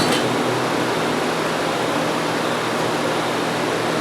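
An Acura 3.2 TL radiator fan motor, one that had stopped working, whirs steadily after a tap on its housing. The broadband airy hum is constant and close for the whole stretch, with no talk over it.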